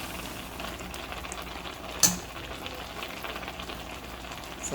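Snake gourd cooking in ghee for payasam, a soft continuous low sizzle and bubbling with a single sharp clink midway.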